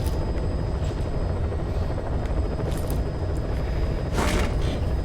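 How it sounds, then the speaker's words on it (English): Steady, loud helicopter rotor drone with a deep rumbling low end, continuous throughout, heard from inside the cabin in Metal Gear Solid V: The Phantom Pain. "As always, it starts on our helicopter."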